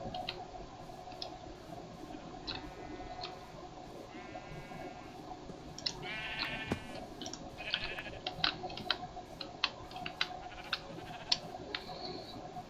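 Several short sheep bleats from the game Minecraft, scattered among soft clicks and ticks over a steady low ambient hum.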